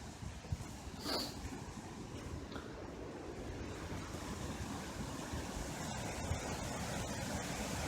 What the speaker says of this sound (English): This is a Mill Dam.